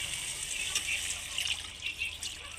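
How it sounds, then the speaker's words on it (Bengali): Water poured from a mug into a pot of cooking bottle gourd for a sour lau tok makes a continuous close splashing trickle for a couple of seconds, with no talk. "এবার আমি জল দিয়ে দিচ্ছি 1 মগের মতো"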